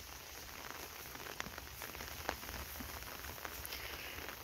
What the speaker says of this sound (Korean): 비 오는 날 우산 받치고 이렇게 천천히 걷고 있으니까